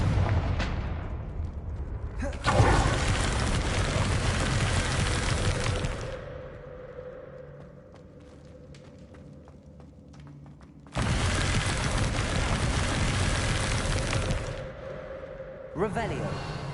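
A Confringo fire spell blasts in Hogwarts Legacy, producing two long, loud, roaring explosive bursts separated by a quieter stretch with a low hum.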